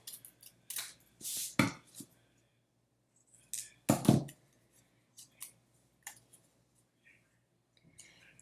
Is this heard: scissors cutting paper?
yes